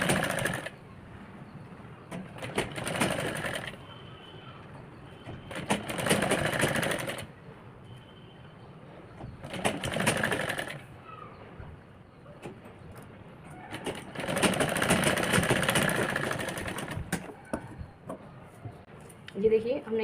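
A sewing machine stitches a girl's crop top in several separate bursts of fast whirring, each a few seconds long and fairly close, with quieter pauses in between.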